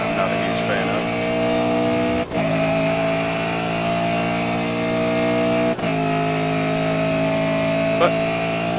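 V8 touring car engines in the Grid Autosport racing game hold a loud, steady high-revving drone with a couple of brief gear-change dips, while someone talks over it.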